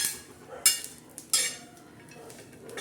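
Green chillies are roasted in a pan on the stove, with soft sizzling and scraping, and two sharp metallic clatters of a utensil against the pan stand out over the quieter background.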